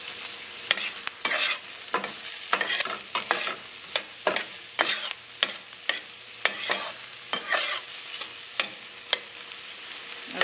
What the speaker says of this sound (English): I'm going to saute those up